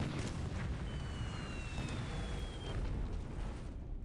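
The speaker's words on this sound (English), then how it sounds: "142 coastal guns shot in defense." Dense, continuous rumble of distant coastal guns firing from the fort at Singapore in a video game, a constant barrage with overlapping blasts, fairly faint overall.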